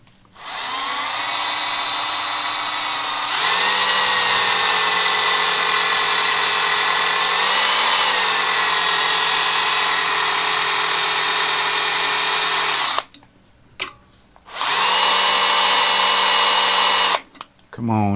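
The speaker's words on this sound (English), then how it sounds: "See how easy this or hard this will drill." A power drill whines steadily, its pitch rising as it bites into aluminum on a boat console mount, stops briefly, then runs again in a second burst.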